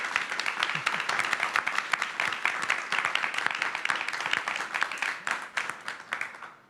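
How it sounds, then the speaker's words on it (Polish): Sustained audience applause follows the announcement of a new culture minister at a government reshuffle event, dense continuous clapping from many hands, fairly distant and fading slightly at the end. "Wielkie brawa Marta."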